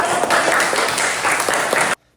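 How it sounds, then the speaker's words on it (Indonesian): Students in a classroom break into loud, sustained applause that carries on steadily for about two seconds, then cuts off abruptly into silence. "Oke, tepuk tangan."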